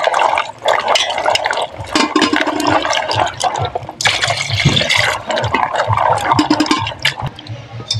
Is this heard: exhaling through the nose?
no